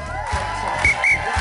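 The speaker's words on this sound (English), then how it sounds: "give them a round of applause" A crowd at a Santa charity ride event cheering and whooping as riders arrive, with bursts of high shouts over a noisy outdoor background and low rumbling, loud and brief.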